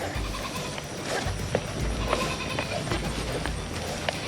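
A small goat prances and runs nearby, its hooves making quick, uneven light patters over a constant outdoor rustle, with no talking.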